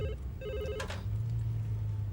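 A telephone rings in a room, two short bursts of bright trilling ring before the line falls quiet beneath a low steady hum; no one speaks.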